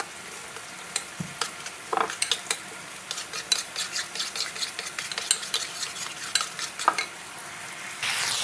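Chicken tikka mixture with black pepper and white vinegar fries in a pan, a soft sizzle broken by repeated quick scrapes and clicks of a utensil stirring, close and fairly quiet.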